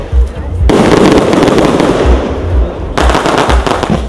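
Fireworks boom and crackle at a nightlife event in Vlorë, loud dense volleys of bursts in two long stretches, with deep thumps and crowd or music noise in between.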